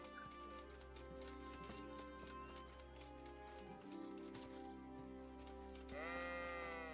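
Sheep bleat faintly amid a busy Kingdom Come: Deliverance game soundscape with steady music and hum, the calls distant and intermittent, rising louder near the end.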